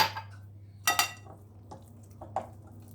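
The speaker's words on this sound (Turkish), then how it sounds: "Yağları karıştırıyorum." A utensil stirs solid fat and liquid vegetable oil together in a kneading bowl for Turkish poğaça dough, giving a few distinct clinks and scrapes against the bowl, close by and fairly quiet, with no talk.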